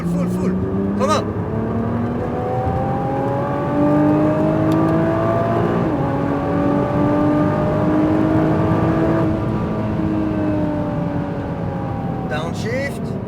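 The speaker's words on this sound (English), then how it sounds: "Squeeze the gas pedal. Full throttle." Nissan GT-R engine pulling hard at full throttle on an autocross course, a loud sustained roar whose pitch climbs and falls with each gear, steady throughout, with an instructor talking over it.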